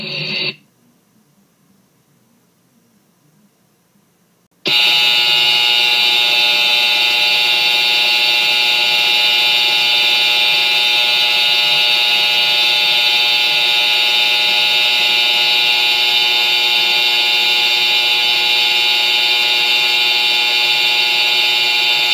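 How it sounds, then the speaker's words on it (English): A pulled school fire alarm rings in a loud, steady electronic buzz. It starts abruptly after a brief quiet gap and continues unbroken to the end, with no talking. "I'm going to pull the fire alarm."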